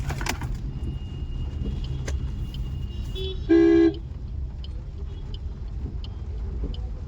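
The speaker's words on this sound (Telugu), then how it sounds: "500 మీటర్ ట్రాఫిక్ జామ్ ఉంది." Idling vehicles rumble in a steady low drone in a rainy-season road traffic jam, punctuated by a single short car horn toot and a few scattered honks and clicks.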